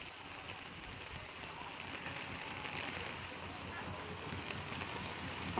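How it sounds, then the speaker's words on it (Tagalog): Heavy typhoon rain and gusting wind batter the surroundings where a big nara tree has fallen, a continuous roaring hiss with rumbling wind buffets at the microphone, no distinct voices standing out. "Ayan, lakas ng ulan."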